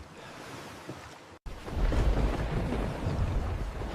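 Ocean waves and stormy water surge in a video game, a broad roaring wash that cuts out briefly, then swells louder and heavier, churning continuously up close with no talk.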